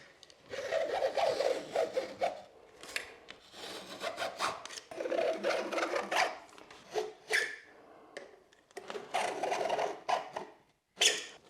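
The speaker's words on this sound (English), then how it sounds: "So I'm going to try and cut it with my very sharp Stanley knife" Sharp Stanley knife repeatedly scoring plasterboard, short rasping scrapes in irregular strokes with brief pauses between passes, close and fairly quiet.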